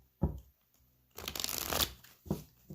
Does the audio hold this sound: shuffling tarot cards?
yes